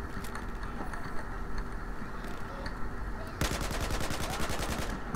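Gunfire in the video game Battlefield 4, sustained rattling automatic shots over rumbling battle ambience, intensifying into faster, denser bursts partway through, with no talking.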